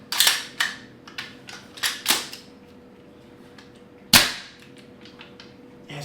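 An airsoft gas blowback gun, the Ghetto Blaster NH7, fires in short bursts. Quick, crisp snapping reports come in clusters with gaps between them, then one loud isolated shot, close and clear.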